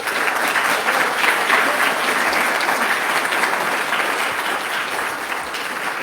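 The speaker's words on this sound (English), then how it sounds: "Give them a round of applause" Audience at a graduation ceremony applauding the musicians of a klezmer trio, a dense, sustained clapping from a sizable crowd that holds steady for several seconds.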